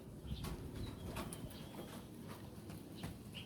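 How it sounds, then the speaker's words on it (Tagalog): Pigeons kept at a home alongside pet rabbits give off soft, faint bursts of wing flapping, a few scattered flutters over a low background rumble. "May mga kalapati din kami dito."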